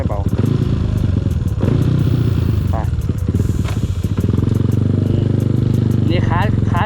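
A 125cc motorcycle engine revs hard and loud outdoors, its throttle blipped up and down in repeated surges, with someone talking over it throughout.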